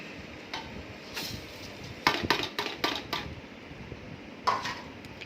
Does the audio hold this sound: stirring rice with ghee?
yes